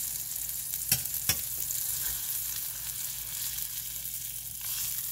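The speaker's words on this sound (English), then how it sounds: "I got it searing, and it's really kind of a big turkey burger" A big all-turkey burger searing in a hot pan gives a steady, close sizzle throughout, with a couple of sharp clicks early on and no talking.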